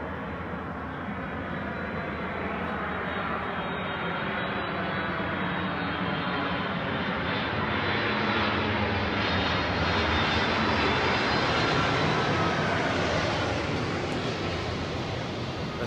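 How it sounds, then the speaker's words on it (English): A loud airplane engine roars steadily for the whole stretch, a broad continuous drone that builds slightly as the aircraft draws close. "you'll see the airplane come in"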